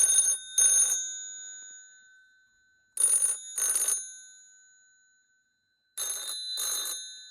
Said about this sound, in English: And here's the ring. It's a bit tinny, isn't it?